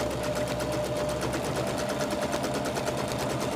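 A sewing machine stitches straight quilting seams on a patchwork pillowcase, a fast even rattling run of needle strokes that holds steady throughout, close and loud with no talk.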